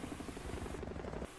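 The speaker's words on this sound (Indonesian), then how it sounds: "Helikopter muter-muter di atas pagar," A helicopter circles overhead above a fence, its searchlight sweeping the ground, giving a steady rhythmic rotor thumping over constant broadband engine noise that cuts off abruptly near the end.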